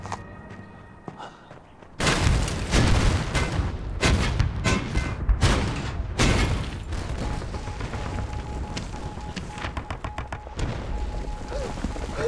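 Artillery bombardment of a city gate in an anti-Japanese war drama: a quiet start, then loud booms and a sustained roar of crackling blasts and gunfire that runs on without a break.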